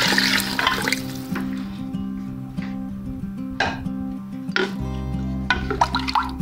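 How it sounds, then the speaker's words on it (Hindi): Water pours steadily into a cooking pot of fried spice paste for tomato rice, with a churning, gurgling rush, background music and a few clinks throughout. "अब हम इसमें पानी डालेंगे"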